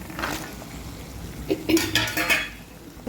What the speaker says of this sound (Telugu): ఇప్పుడు ఈ చేపలు వేసేస్తాను